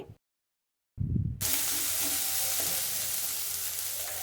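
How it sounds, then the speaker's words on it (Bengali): Tomato seasoned with salt and turmeric frying in a pan for a sheem (flat bean) sabji, a brief silence giving way to a loud, steady sizzle with stirring scrapes, close and without talk. "এবারে টমেটোটা খুব ভালো করে ভেজে নিতে হবে।"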